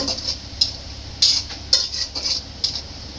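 Sliced onions fry into beresta over a low gas flame, with a quiet sizzle under irregular clinks and scrapes of a spatula against the pan, about six sharp strokes in a few seconds.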